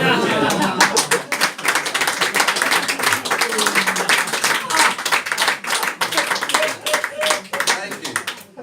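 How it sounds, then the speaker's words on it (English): A live audience applauds after a card magic trick with four aces, dense sustained clapping filling the room at close range and holding steady throughout. "your applause has made an old man very happy"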